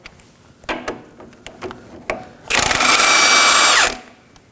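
A ratcheting socket wrench, fitted with a 24mm socket, backs the nut off an inner tie rod on the front steering rack of a 2014-2020 Acura MDX, giving a few close clicks followed by a loud, steady ratcheting burst of about a second and a half.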